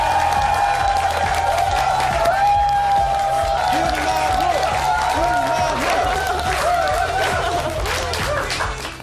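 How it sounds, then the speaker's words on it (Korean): Studio audience on a Korean morning talk show applauding and cheering as a professional wrestler guest walks in, sustained clapping with scattered laughter and chuckles, while a host speaks over it. "박수로 모시겠습니다"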